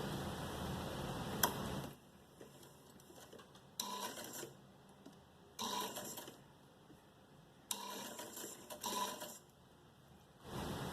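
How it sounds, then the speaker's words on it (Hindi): A sewing machine stitches a designer short frock in short bursts of rapid mechanical ticking, each run lasting about a second with quiet pauses between, close and fairly soft, with no speech. "थोड़ा सा आगे मशीन को चला के एक और लूप्स लगाएंगे।"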